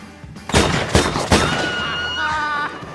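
Three loud gunshots fired in quick succession in a film scene, each a sharp crack followed by a lingering reverberant tail. A ringing tone rises near the end.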